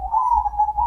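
A perkutut (zebra dove) gives a single soft, sustained coo, close and clear against a quiet background.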